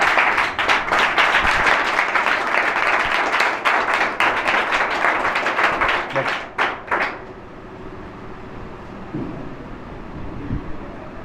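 A standing audience at a motivational talk bursts into loud, dense clapping for about seven seconds, then it cuts off abruptly into a quiet room with a few faint scattered sounds.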